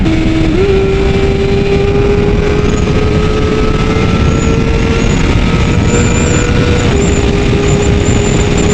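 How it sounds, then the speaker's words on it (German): 2019 BMW S1000RR superbike ridden in fourth gear, a loud, steady engine drone with a sustained tone that shifts slightly in pitch, under heavy wind rush throughout. "Jetzt sind wir wieder im 4. Gang und das Bike ist sehr, sehr ruhig."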